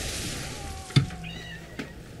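A big house cat gives a short meow, then a fainter second call a moment later, over a soft, steady background hiss.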